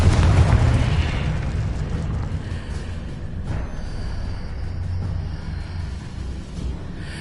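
A Confringo blast spell from a Harry Potter video game: a loud booming explosion at the start that rolls into a long rumbling decay, followed by a fainter thud midway, no voices.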